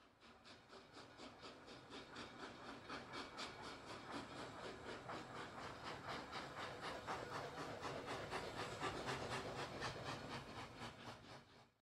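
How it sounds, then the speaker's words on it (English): A steam train in an audio play chuffs in a steady rhythmic beat with hissing steam and rail clatter, faint and distant at first, then gradually louder before cutting off. "I could hear the train sounding in the distance"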